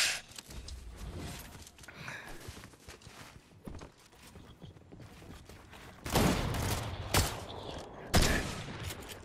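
Shotgun blasts ring out in a Fortnite match, several heavy bursts near the end over a busy background of footsteps and scattered game noise.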